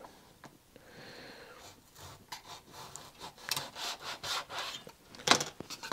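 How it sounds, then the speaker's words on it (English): A razor saw cuts through wood for a small electric RC plane, a quiet close-up series of short rasping strokes that grow denser and slightly louder toward the end. "So literally just following that line I've drawn with the razor saw like that"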